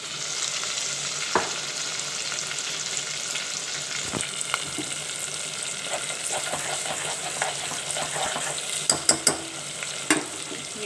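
Tomato masala for tinda chicken fries in a pan with a steady close sizzle, broken by occasional spatula clicks and scrapes and a few louder taps near the end.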